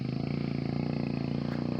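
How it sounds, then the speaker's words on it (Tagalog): A motorcycle labouring uphill on a rough mountain trail, its engine pulsing in a fast steady rhythm with a throaty buzzing note, close and loud throughout. "nag-aaho na yung motor oh"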